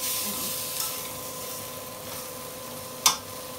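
Fish pieces being stirred in a hot pan with spices before the gravy is added, giving a steady, quiet sizzle with a soft clatter of the spoon against the pan near the end.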